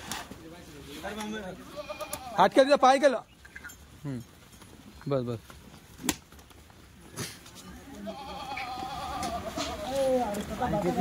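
Goats bleating in a pen while being fed, several wavering calls from close and mid distance breaking in between and over people talking.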